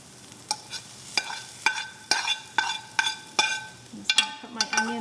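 Onions clatter and scrape as they are stirred in a frying pan, sharp regular stirring strokes over a faint steady sizzle, close and alone.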